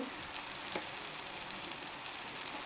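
Cluster beans (guar) fry in a pan with a soft, steady sizzle and faint crackles, low in level, with an occasional stirring scrape and no talking.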